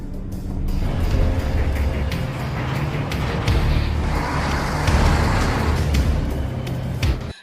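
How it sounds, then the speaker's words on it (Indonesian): A fuel-laden tanker truck speeding toward a horde of zombies in a film scene, its engine a continuous heavy roar with rumbling low drone and rushing noise, loud and close throughout. "ia mengendarai truk bermuatan bahan bakar, melaju ke arah segerombolan zombie"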